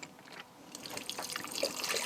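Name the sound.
water poured onto potato for cooking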